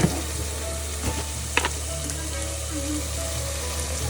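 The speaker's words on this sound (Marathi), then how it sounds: "आता करतोय फोडणीची तयारी त्यामध्ये सगळे घातले टोमॅटो कांदा हळद मसाले सगळे खडे मसाले" Tomato, onion, turmeric and whole spices sizzle in hot oil for a tempering, a steady close-up frying hiss with a few brief clicks of stirring and no talk.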